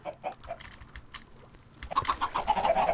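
Chickens in a Minecraft chicken farm cluck in short, scattered bursts, a few soft clucks at first and then a louder cluster of overlapping clucks, with faint clicks under them and no talking.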